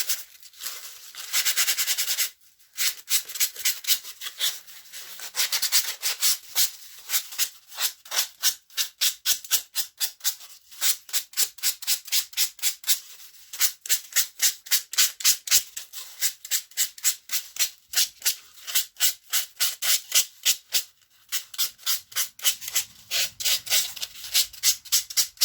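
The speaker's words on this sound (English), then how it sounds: "give it a very light coat of filler mix and then give it a sand down afterwards" A filler-coated model mushroom for tabletop games is sanded by hand in rapid rhythmic strokes, a close, steady scratchy rasp repeating back and forth for about twenty-five seconds, alone with no talk.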